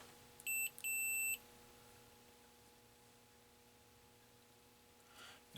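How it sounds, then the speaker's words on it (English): A 1981 Bally Midway Omega Race arcade board gives two short electronic beeps near the start, then only a steady low electrical hum remains. "that's the beep. You can hear the beep."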